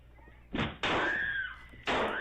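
Heavy blows strike a door as someone tries to break it down inside a game, several loud slams and thuds in an irregular burst, close and forceful.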